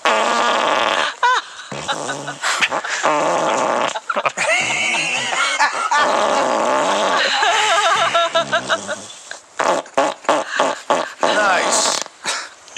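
A man breaks wind on request, letting out loud, long, sputtering farts in a studio setting, with people talking and laughing over and between the blasts.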